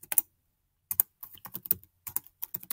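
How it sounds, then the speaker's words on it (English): Keys clack on a computer keyboard in short bursts of typing, with a brief pause early on and then a steady run of close, crisp keystrokes with no voices. "Then just come up here and type the text that I'm looking at."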